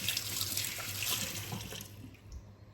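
Tap water runs steadily into a kitchen sink while a hand is wetted during sourdough bread making, a close continuous splashing hiss that shifts slightly as the hand moves under the stream.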